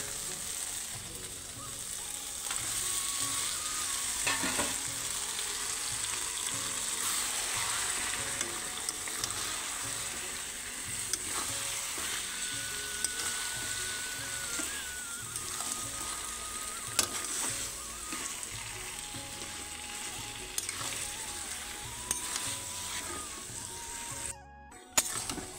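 Boiled taro leaves sizzle and fry in a pan with spices in an Assamese village kitchen, a steady close crackle with occasional stirring scrapes, no talking.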